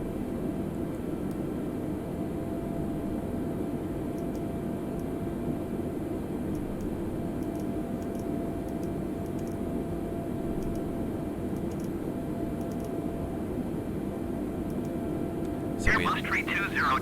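Airbus A320neo in Microsoft Flight Simulator descending, a steady broadband engine and airflow roar held at an even level throughout, with a brief brighter burst near the end.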